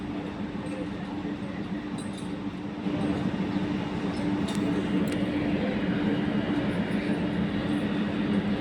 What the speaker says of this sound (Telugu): ఈ ట్రైన్ పోవడానికి రెడీ ఉన్నది